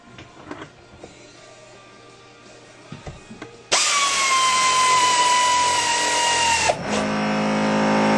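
Power tool whirs at steady loud level for about three seconds while tightening cylinder head bolts on a Polaris Indy 400 snowmobile engine, after quieter workshop handling noises, then changes pitch briefly before continuing.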